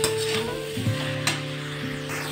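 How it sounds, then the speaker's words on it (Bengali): Previously fried cabbage sizzles steadily as it is stirred through cooked spice paste in a hot pan, a continuous close frying hiss with occasional scraping stir sounds. "এবার ভেজে রাখা বাঁধাকপিটা দিয়ে দেবো। বাঁধাকপিটা ভালো করে নেড়ে চেড়ে ঢাকা দিয়ে দিয়ে কষিয়ে নেব।"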